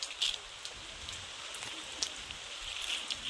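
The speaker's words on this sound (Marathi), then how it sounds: "आज थोडा पाऊस आलाय." Light rain falls outdoors near a river, a faint steady hiss with occasional soft drop taps scattered through it and no voices.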